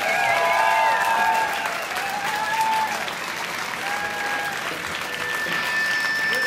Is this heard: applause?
yes